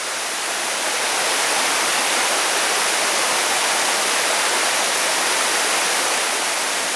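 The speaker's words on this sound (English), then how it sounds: "pretty waterfall though" Waterfall with sliding cascades along the Natchez Trace, a loud, steady, close rushing roar of falling water that continues unbroken, with no voices.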